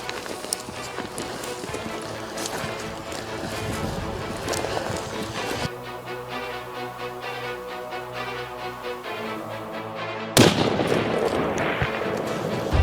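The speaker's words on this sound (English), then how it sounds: "Gunshots echo through the forest" Sharp gunshots crack at intervals through a forest, one loud blast near the end, over a busy background of movement and hoofbeat-like thuds.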